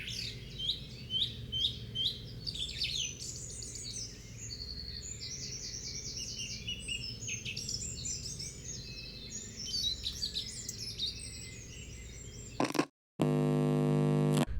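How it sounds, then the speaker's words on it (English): A nature sounds recording of birdsong fills the air with repeated chirps and tweets over a low steady ambient hum, fairly faint, before an abrupt cut to a loud sustained tone at the end. "Play nature sounds"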